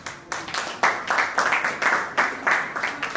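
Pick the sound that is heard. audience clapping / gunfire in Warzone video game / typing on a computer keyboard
audience clapping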